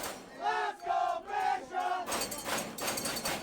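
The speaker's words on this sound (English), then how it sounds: "a huge crowd of Bishops players who are ringing some bells and cheering, "Let's go Bishops."" A crowd of Bishop's players at a lacrosse game chanting in rhythmic, shouted bursts, four pulses in a row, then a rougher wash of cheering and ringing noise.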